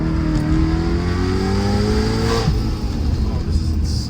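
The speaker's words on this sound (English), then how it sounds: "The sound in this car. The E92 M3." A supercharged BMW E92 M3 engine revs hard with a rising harmonic whine, loud and close, over steady road and cabin rumble; a voice may murmur briefly.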